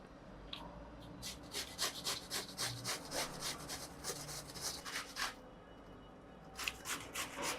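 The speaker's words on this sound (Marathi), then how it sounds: "आता मी किसून घेते." Bottle gourd (dudhi) grated by hand in a steady series of soft, rhythmic rasping strokes, close but fairly quiet, with a brief pause midway; no talking.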